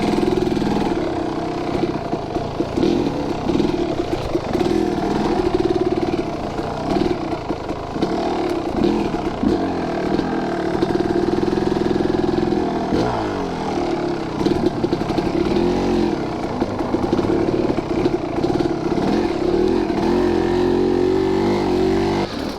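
A 2023 Husqvarna TE150 dirt bike labours and revs continuously on a wooded trail, lugging up a hill, loud and close with the engine note rising and falling throughout.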